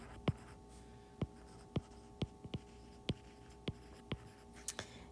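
A pen writes by hand on a surface close up, making a quiet scratchy hiss broken by about a dozen sharp taps at irregular intervals.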